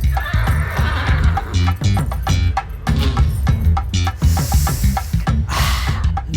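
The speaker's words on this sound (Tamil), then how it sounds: "அரேபிய குதிரை வருது." An Arabian horse neighs and whinnies repeatedly with loud, close calls, backed by steady hoof clip-clop and some rustling throughout.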